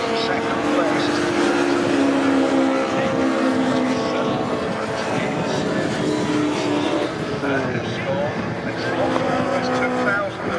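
Pre-1983 Group 1 touring cars, Golf GTIs among them, race at Croft with sustained loud engine roar and shifting pitches throughout, commentators talking over it.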